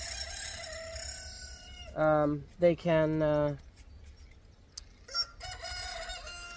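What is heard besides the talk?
roosters crowing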